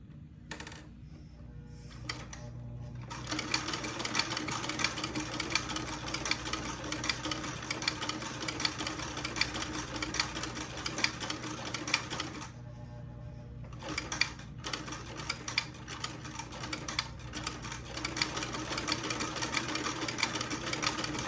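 A sewing machine stitches a buttonhole in a steady, rapid mechanical whir, pausing briefly a few times before resuming, close and fairly loud with no speech.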